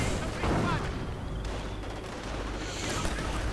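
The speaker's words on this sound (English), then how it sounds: "And the artillery once more fires." Distant gunfire and an artillery blast rumble through a World War II strategy video game battle, a dense, continuous crackle of shots and booms at moderate volume with no speech over it.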